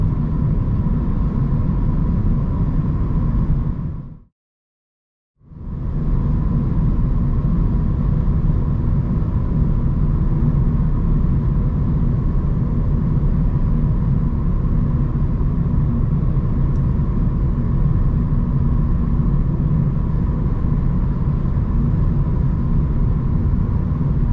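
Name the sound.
V8 car engine while driving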